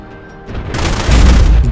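Cannon fire from a MiG-15 armed with 23mm guns in a flight combat video game, heard as a dense, rising burst of booming, rumbling shots that grows louder and heavier to a sustained, close roar.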